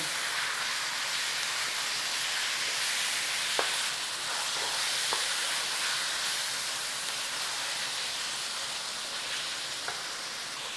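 Minced beef fries in a pan for British mince and mash, a dense continuous sizzle and hiss close up, broken by a few faint clicks as a utensil breaks up the meat.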